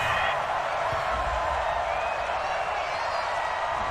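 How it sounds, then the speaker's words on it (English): Home-stadium crowd in Madden 20 during an NFL divisional-round game between the Houston Texans and Buffalo Bills, cheering a referee's call as a steady, continuous roar that fills the whole stretch. "This home crowd, they're happy with that call."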